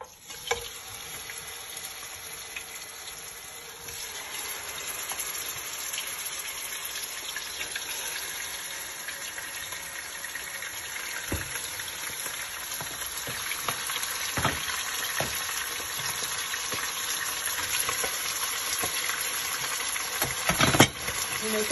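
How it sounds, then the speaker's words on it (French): Meat fries in oil in a pot, a continuous close sizzle and crackle with occasional sharper pops and stirring clatter, steady and fairly quiet for the whole stretch. "pendant que ma viande est en train de frire"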